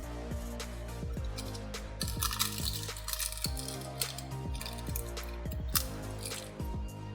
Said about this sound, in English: To make it appear clearer on camera, let's open this plastic first.